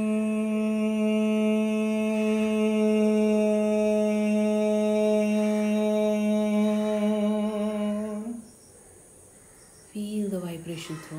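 A person hums a steady, low, buzzing tone imitating a female bee during Omkara meditation. It is held evenly for about eight seconds, breaks off briefly, then starts again.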